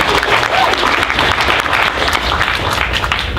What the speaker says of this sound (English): Wait for applause, if any.